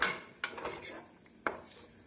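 Tomatoes sautéed in a pot for onion kulambu: a metal spoon scrapes and knocks against the pot twice, sharp clinks over a soft background of stirring.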